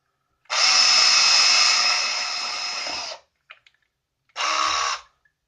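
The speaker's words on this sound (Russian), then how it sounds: "Я сверлю сверлом 2 мм" A cordless drill-driver with a 2 mm bit bores a hole in an LED bulb under repair, a steady loud whine for about three seconds, a tiny click, then a second shorter burst.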